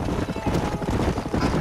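Horses in the Red Dead Redemption video game trot with quick, rhythmic clip-clop hoofbeats and let out a whinny, close and loud, briefly mixed with a voice.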